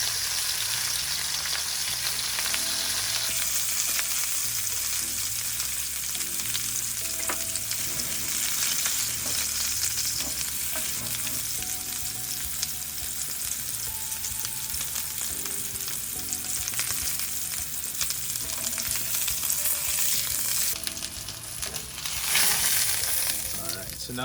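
A reverse-seared tri-tip steak sizzles loudly in a hot pan, with a steady, dense frying hiss that runs the whole time and some occasional scraping and clatter near the end.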